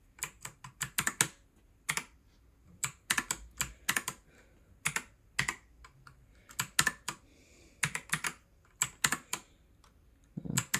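Bursts of clacky keystrokes on an Aukey KM-G12 mechanical keyboard, irregular clusters of sharp clicks separated by brief pauses, close and distinct with no talking.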